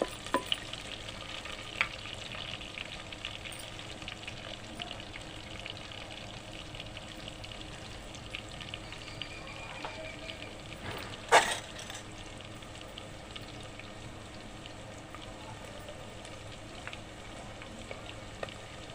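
Chopped onions and chillies frying in a pan for a small-fish curry: a continuous close sizzle with scraping stirs, and a brief louder clatter partway through, without speech.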